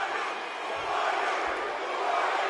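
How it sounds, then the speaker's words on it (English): A large crowd in a wrestling video game chants in a continuous, dense roar that swells and fades slightly, with no clear words and no commentary over it. "Crowd chanting, "Who are you?""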